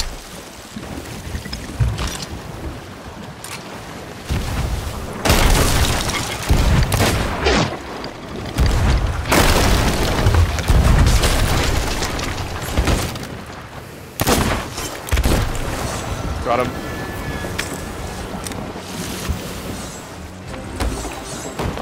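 Ship cannons firing repeatedly in the pirate game Sea of Thieves, loud booming blasts at irregular intervals over wind and sea noise.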